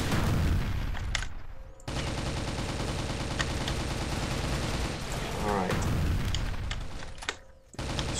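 Rapid bursts of gunfire in the shooter game CrossFire, near and loud, crackling almost continuously with brief pauses.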